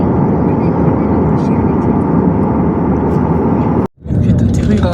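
Steady loud roar of an airliner cabin in flight over the Black Sea along the Turkish coast, broad and unbroken for most of the stretch, cut by a brief dip before the drone returns with faint movement and voices.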